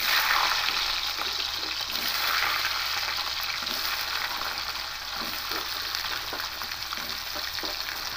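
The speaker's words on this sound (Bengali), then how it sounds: "প্রথমে আলুটা দিয়ে একটু ভেজে নেবো, হালকা একটু কষে নেবো" Potatoes frying in hot oil with black cumin, a continuous close sizzle and bubbling hiss with occasional stirring sounds, no talking.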